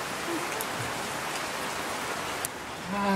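Steady rain falling and hissing across surfaces fills the scene, a constant broadband wash with a few sharper drop ticks and a brief faint sound near the end.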